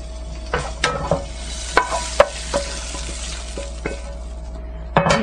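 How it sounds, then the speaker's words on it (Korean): Bracken fern stir-fried with soy seasoning in a pan: repeated close spatula scrapes and taps at an uneven pace over a steady background sizzle, with no voices. "고사리는 너무 오래 볶으시면 뭉그러지게 되므로 그 전까지 볶아줍니다."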